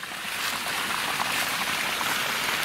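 A small creek flows in a steady, close babble of trickling and splashing water, a constant bright wash with faint gurgles and no talking.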